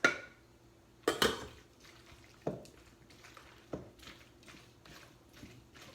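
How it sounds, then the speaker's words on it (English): Potatoes dropped into a cooking pot for potato salad land as a few separate clanks and thuds over a quiet kitchen hum, the loudest pair close together early on and softer knocks following. "now I'm gonna throw on my potatoes"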